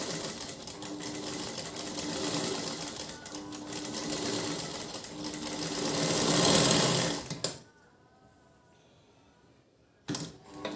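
Sewing machine stitching a princess-cut blouse, running steadily with a fast, even mechanical chatter for about seven seconds, then stopping into near silence before briefly starting again.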